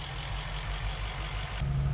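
Engine of a Mercedes G63 AMG idling just after starting, run without coolant and with water in the exhaust, a steady low rumble that turns slightly deeper and louder near the end.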